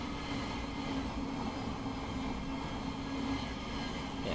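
Class 700 electric train rumbling past on the Midland Main Line in Train Simulator, a steady, moderately loud rolling drone with a faint tonal whine throughout.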